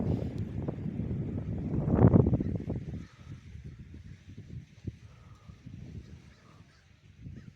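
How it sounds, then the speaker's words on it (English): A big gust of wind buffets the microphone at a lakeside in Lake Elsinore, California, swelling loudly around the two-second mark and then easing into lighter rumbling. "Yeah, I bet you hear a big gust of wind right there."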